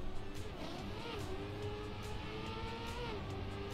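A Trackmania race car in replay, wearing a Dutch skin, with a steady engine drone whose pitch rises and falls over a few seconds, fairly faint and continuous, with no voices.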